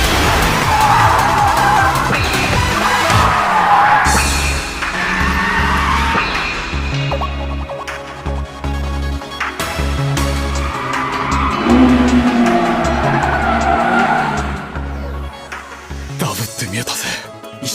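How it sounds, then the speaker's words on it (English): Anime race scene with a car pulling a four-wheel drift, tires skidding and squealing under loud, continuous music, with engine roar through the scene until a sudden cut near the end. "one of the most memorable moments of the show, Fujiwara's 4-wheel drift"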